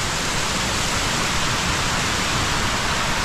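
A strong current of floodwater rushes loudly and continuously nearby, a dense, steady roar of churning water with no pauses.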